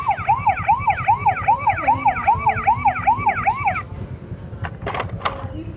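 A toy model ambulance, white with red stripes, wails with a rapid, even electronic siren for about four seconds, then cuts off, followed by a few light plastic clicks and handling noises.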